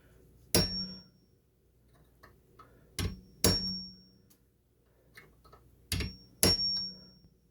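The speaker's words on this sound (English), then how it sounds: "You need power, so you do need a heavy hammer to line it up right." A heavy hammer striking a driveshaft dogbone pin: sharp metallic blows in pairs, six hits in all, each ringing briefly with quiet gaps between them.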